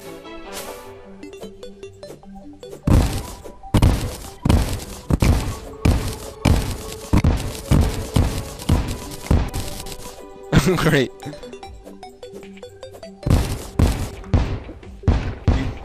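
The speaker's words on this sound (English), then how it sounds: "You made so much of an explosion, it turned daytime." Rapid chains of TNT explosions in the video game Terraria boom close and loud, bursting in quick clusters with short gaps, while a voice speaks briefly.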